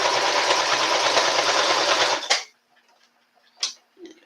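A sewing machine stitches a seam under the arm of a dress, running in a fast steady whir for about two seconds and then stopping, followed by a few soft clicks and handling sounds.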